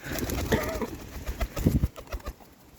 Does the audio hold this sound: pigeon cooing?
yes